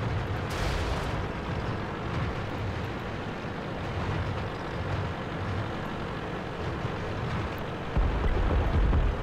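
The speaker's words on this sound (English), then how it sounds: "I assume you guys can hear the explosion effects." Rumbling explosion effects from the tank game World of Tanks, a heavy, continuous low roar with a sharper blast near the start and a louder swell near the end.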